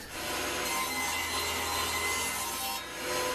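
A handsaw rasps steadily through a wooden workpiece, cutting a notch in a continuous, even stroke close to the listener, with a brief dip near the end.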